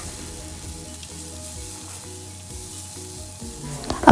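Onion, ginger and green chilli fry in a pan with a close, steady sizzle and occasional stirring scrapes, ending in a louder clatter at the very end.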